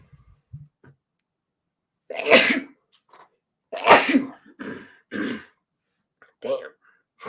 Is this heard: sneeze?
yes